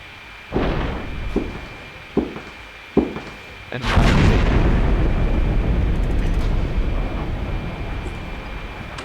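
Video game grenade explosion: a few sharp blasts and pops, then a loud booming detonation with a sustained rumbling roar that lingers for several seconds, up close and dominant.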